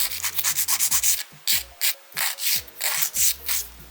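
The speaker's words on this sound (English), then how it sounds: "I'm just gonna file, smooth out the edges, and remove that little tab at the end." A file rubs in quick back-and-forth strokes along the edges of press-on nail tips, each scratchy stroke close and distinct, arriving in bursts with short pauses between.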